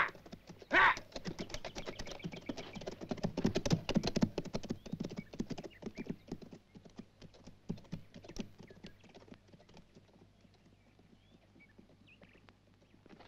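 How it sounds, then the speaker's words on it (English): Hooves of several horses clip-clop on the ground in a western frontier setting, a burst of busy, overlapping hoofbeats that peaks early and then thins out into scattered, fading steps with a brief whinny-like cry near the start. "Get the horses moving."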